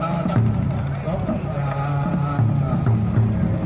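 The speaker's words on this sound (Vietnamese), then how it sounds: "Lúc này thì cũng có một chiếc ghe biển này đang có về bến này các bạn." A large wooden sea fishing boat arriving at Lạch Phủ dock on Phú Quý island: a loud, steady low engine drone with a rhythmic chugging pulse, under background chatter of people around the harbor.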